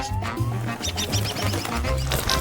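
A bird quacks in a rapid run of short, close calls, repeated throughout at moderate loudness with no talk.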